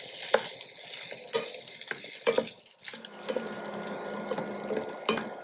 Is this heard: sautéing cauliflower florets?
yes